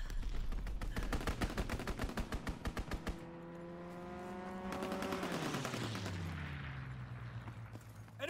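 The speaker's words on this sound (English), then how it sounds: "Enemy strafing run incoming." An enemy strafing run in Call of Duty WWII brings a rapid, loud burst of machine-gun fire for a few seconds, followed by a droning aircraft engine that sweeps past and falls in pitch.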